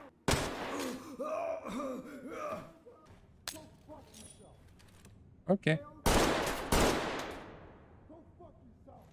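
Gunfire in the Ready or Not video game: sharp, loud shots and short bursts crack out at scattered moments, with a voice talking in between.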